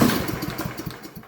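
A Yard Machines small engine runs poorly when fitted with a bad ignition coil from a Troybilt TB 105, giving a close, loud, uneven chugging with irregular pulses that fade toward the end.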